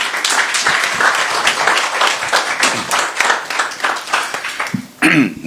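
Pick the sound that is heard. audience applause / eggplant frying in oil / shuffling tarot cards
audience applause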